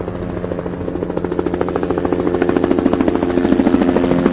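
Loud, rapid rhythmic chopping of search helicopter rotors over waterways around Albany, steady and close, growing slightly stronger over the few seconds.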